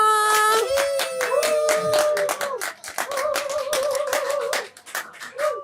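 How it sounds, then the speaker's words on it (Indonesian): An audience claps in quick, dense bursts that run the whole stretch, loud and close, while a sustained sung or hummed voice carries over the clapping. "banyak yang tepuk tangan"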